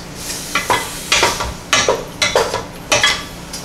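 Kimchi jjigae cooks in a pot, with stirring scrapes and bursts of sizzling coming in repeated close, moderately loud strokes over a steady bubbling hiss.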